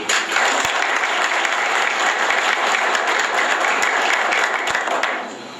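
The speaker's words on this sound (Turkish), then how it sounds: "sevgili kaymakamımıza ve emniyet müdürümüze de e, bir alkış istiyorum" An audience at an event on Turkish industry applauds a district governor and police chief, with dense, steady clapping held loud throughout before tapering off at the end.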